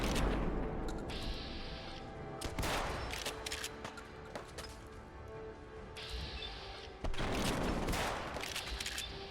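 Gunfire in a Fallout 4 fight, dense bursts of loud shots and cracking impacts over constant game noise, with several heavier blasts in between.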